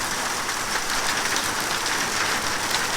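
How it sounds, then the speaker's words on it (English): Hail and heavy rain pound down during a severe thunderstorm, making a dense, unbroken hiss and roar that stays steady and loud throughout. "But this is hail for sure."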